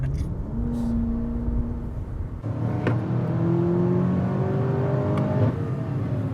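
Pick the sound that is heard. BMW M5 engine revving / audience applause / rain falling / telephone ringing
BMW M5 engine revving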